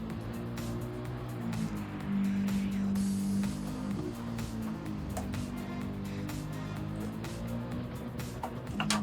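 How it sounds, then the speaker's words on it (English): A Mercedes 190E with an AMG GT3 engine swap in Gran Turismo 7, the engine droning steadily at close range with shifting pitch as it downshifts, a sustained tone rising briefly mid-run before settling back. "Listen to that, the downshift."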